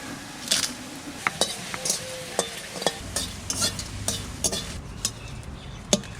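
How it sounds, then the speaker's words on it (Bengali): Dry red chillies roasting in a dry pan, heard as a series of sharp clinks and scrapes from stirring, spaced irregularly over a faint hiss. "এই শুকনো লঙ্কা কয়টা আমি শুকনো খোলায় ভেজে নেব"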